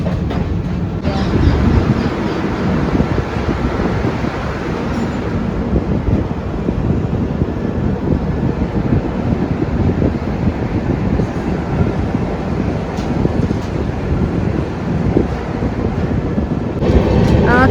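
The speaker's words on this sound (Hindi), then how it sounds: "तो ट्रेन अब चल दी है सांभर स्टेशन से।" Indian Railways train 14865, running from Varanasi to Jodhpur, moves on after leaving Sambhar station, with a steady, loud rolling rumble and wheel clatter throughout and some wind buffeting the microphone.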